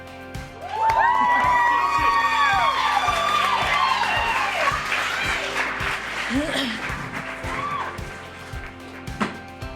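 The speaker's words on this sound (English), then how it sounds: "please give a huge round of applause to" A live audience breaks into loud, sustained applause and cheering for a performer, with whoops and shouts rising over the dense clapping throughout.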